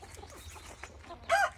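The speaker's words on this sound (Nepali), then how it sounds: "यहाँ 3टा भाले छ यहाँनिर" Roosters in a village, with a quiet rustling background and one short, loud cluck near the end.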